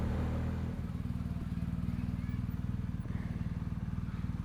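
A motorcycle being ridden gives off a loud, close, steady engine rumble with a rapid even pulse throughout, under wind noise with no talk.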